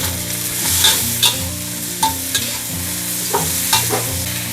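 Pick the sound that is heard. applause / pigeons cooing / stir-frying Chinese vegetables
stir-frying Chinese vegetables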